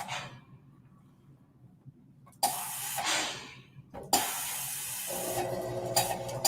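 A steam iron pressing the seams of a quilt block gives off two long, loud bursts of spraying steam hiss after a quiet start, with no talking.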